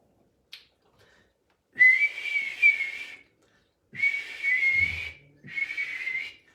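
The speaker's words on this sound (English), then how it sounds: "That's the first note, and it's really hard to whistle." A person whistles a tune alone in three sustained, fairly loud phrases, with a short breathy chirp before them and a gap between the first and second phrases.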